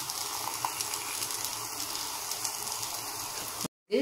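Batter cooking on a hot pan, with a faint, steady sizzle and soft bubbling crackle throughout, then a brief break and a short scrape at the end.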